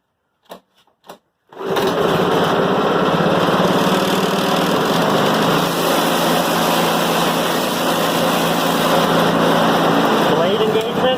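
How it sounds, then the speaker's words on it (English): A Honda Harmony lawn mower engine starts after a few brief pulls and clicks, then settles into a loud, steady running drone close by for the rest of the clip. "So let's start it back up, and we'll see if it engages on that first notch now."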